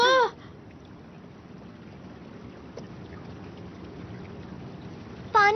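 Steady low water flow runs through a freshly ruined place in a Doraemon cartoon, a continuous soft wash heard alone between brief bursts of voices at the start and end.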